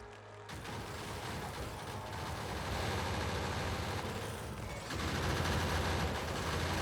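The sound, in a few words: gun turrets shooting biters in video game Factorio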